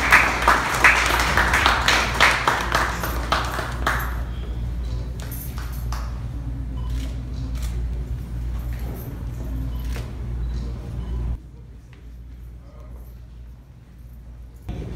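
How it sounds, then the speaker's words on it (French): Audience applause at a World Malaria Day ceremony in Pétionville, Haiti: dense clapping for about four seconds, then dwindling to scattered claps over a steady low hum and room noise. "Sur vos applaudissements."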